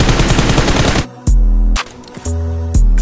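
An M4 rifle fires a rapid, loud full-auto burst lasting about a second in a competitive video game match, then gives way to sustained tonal game sounds with sharp clicks between them.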